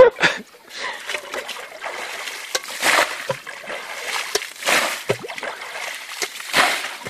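Water from a forest spring trickling and splashing into a well ring, a steady close gurgle with occasional louder splashes.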